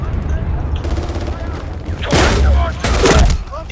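Gunfire in a Medal of Honor multiplayer match, including a shotgun, with two loud close blasts and a rattle of shots over steady background battle noise, while someone talks.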